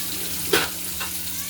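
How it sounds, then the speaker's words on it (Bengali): Potatoes frying in a pan for a vegetarian pointed gourd dish, giving a constant low sizzle with a brief sharper clatter of stirring and a fainter one after. "লাল লাল করে ভেজে নেব।"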